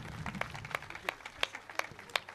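Scattered hand claps from an audience at a statue inauguration ceremony at an MBA and MCA institute, a few sharp claps over faint room noise rather than full sustained applause.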